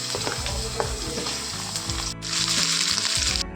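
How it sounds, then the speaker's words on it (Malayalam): Ginger and garlic hit hot coconut oil and sizzle loudly, with a spoon stirring and scraping through the pan in quick strokes and the hiss swelling near the end. "ആ വെളിച്ചെണ്ണയിലേക്ക് ഇഞ്ചിയും വെളുത്തുള്ളിയും കൂടി ഇട്ട് ഇളക്കാൻ പോവുകയാണ്"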